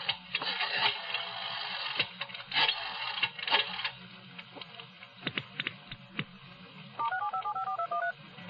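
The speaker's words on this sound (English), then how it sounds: "I tried to call Lou again." A telephone is dialed in a radio drama scene set in a restaurant's public phone booth: a steady run of clicking dial or key sounds, then a short burst of quick dialing tones near the end, heard alone without talk.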